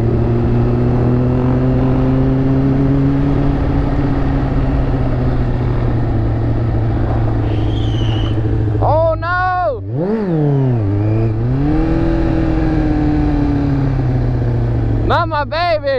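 A Yamaha YZ450 dirt bike engine idles loudly and steadily up close, then blips through several sharp rising-and-falling revs, with a last quick rev at the end as people talk over it.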